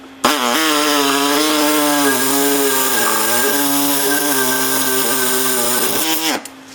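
A saw cuts steadily into the glass cylinder head of a Briggs engine, a loud, close, sustained grinding whine with a strong pitched hum that holds for about six seconds before stopping abruptly.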